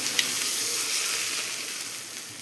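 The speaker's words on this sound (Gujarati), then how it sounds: "ચાલો જો આ ઢોકળામાં આ રીતના આપણે વઘાર રેડી દેવાનું." Hot oil tempering with sesame seeds poured over steamed dhokla, giving a steady, bright sizzling hiss that fills the clip at close range and slowly fades, with no talking.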